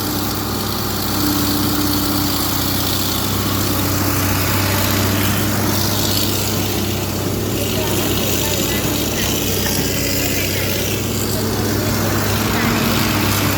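A tractor engine runs loud and close with a steady low drone throughout while people talk over it.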